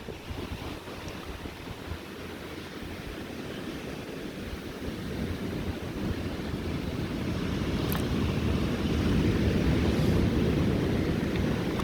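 Surf rolls continuously onto a Cornish beach, with wind buffeting the microphone and the wash of the waves growing gradually louder and fuller.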